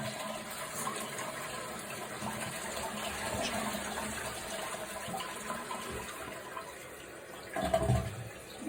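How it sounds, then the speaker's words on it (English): A household toilet with a chirping fault is flushed, its steady rush of water running and gurgling throughout before a louder surge near the end as the bowl drains and the tank begins refilling. "as soon as it's done, we'll flush it and see if there's no chirp"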